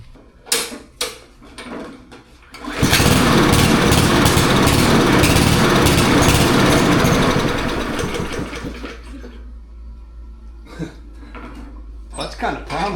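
A cheap Chinese-made lawn mower engine catches on the first pull after a few handling knocks, then roars loudly and steadily at close range for several seconds before settling to a lower idle.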